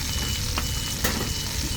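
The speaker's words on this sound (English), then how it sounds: "The onions in there first." Onions sizzle and fry in a camp oven for a braised steak and onions dish, a steady, close crackling hiss with a couple of brief sharper pops as they are stirred.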